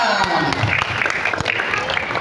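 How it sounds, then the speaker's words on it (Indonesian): Applause from an audience during a fire station visit, honoring a firefighter after a breathing apparatus demonstration; steady clapping fills the short stretch with voices mixed in underneath. "Oke, tepuk tangan dulu Bapak, salam."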